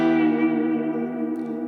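A Teisco Del Rey electric guitar with a tremolo arm and reverb rings out as a single sustained chord, slowly decaying with a wash of reverb, loud and close.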